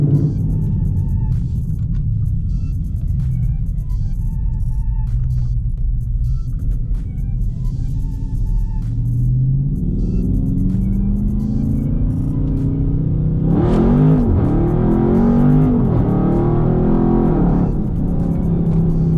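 An automatic Dodge Charger Scat Pack accelerating hard in a roll race, a loud close engine roar building steadily with rising pitch, then a sharp gear shift and renewed surging revs near the end.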